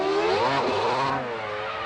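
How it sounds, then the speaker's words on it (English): A Formula One car at the start of the 1999 Hungarian Grand Prix: its engine revs loudly and close by, pitch climbing, dipping and rising again in one sustained howl. "I'm going to put some revs on."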